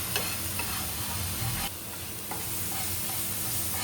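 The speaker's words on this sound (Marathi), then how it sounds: "मस्त थोडा परतून घेऊया व्यवस्थितपणे" Onion being sautéed and stirred in a pan while mutton is cooked into a dry tawa dish, with a steady close sizzle and scraping stir strokes, a louder burst of scraping in the first half and no talk.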